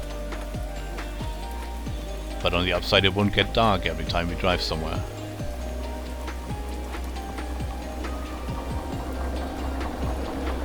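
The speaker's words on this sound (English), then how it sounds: "I also changed length of day, so we'll be stuck in this rain for a couple hours." Steady rain falls in the train simulation game Derail Valley, a constant patter and wash running throughout alongside a low rumble, with someone talking over it in the middle.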